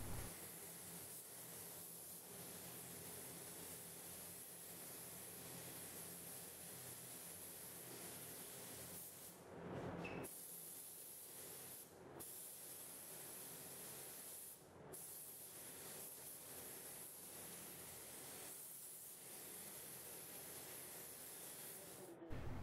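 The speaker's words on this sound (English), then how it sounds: "So you can spray maybe up to about 4 coats." Clearcoat being sprayed onto a car headlight makes a steady soft hiss lasting several seconds at a time, broken by short gaps between passes, with faint background noise.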